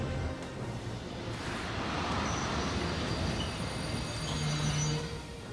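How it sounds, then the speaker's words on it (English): Armored train arriving in the video game Valkyria Chronicles 4 during a supply depot ambush mission: a steady, dense rumble and clatter of rolling rail cars with a faint high squeal, sustained throughout without talk. "We got a train coming in?"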